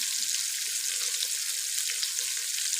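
Cumin seeds, red chili powder and turmeric sizzle and fry in a hot pan, a steady close crackling hiss holding evenly throughout without speech.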